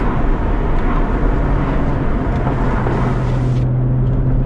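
BMW M140i with a resonator-delete exhaust, a steady loud drone of engine and exhaust with a low tonal hum that rises slightly near the end, heard close and continuous with no talking.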